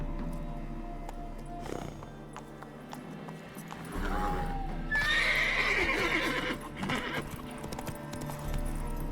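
Roach the horse in The Witcher 3 game: steady clip-clop of hooves under continuous game ambience, with a loud whinny partway through, close and clear.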